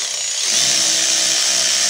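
A power tool tightens the rear brake caliper bracket bolts on a 2021 Toyota RAV4 AWD 2.5 with an electronic parking brake. It makes a loud, steady whirring grind that swells after a quieter half-second start and runs continuously without speech.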